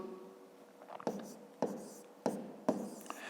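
A pen writes numbers on paper while working a long division of 158 by 12 in a fifth-grade maths lesson, four crisp scratchy strokes in quick succession, close and quiet.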